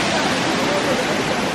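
Laughing Whitefish Falls, a 100-foot waterfall, pours in a loud, unbroken broadband roar, close by and steady throughout with no gaps.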